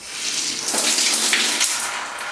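Shower water turned on with both hot and cold valves open, a hissing rush of spray that swells as the flow builds and then continues at an even, close, moderately loud level.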